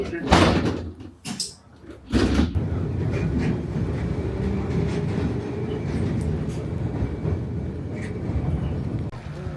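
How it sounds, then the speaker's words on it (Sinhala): A tram pulls in at Milano Centrale station, a steady low rumble of rolling wheels and rail noise. Loud thumps and a slam open it, and a voice speaks over the noise. "මෙන්න අපේ ට්‍රෑම් එක ආවා."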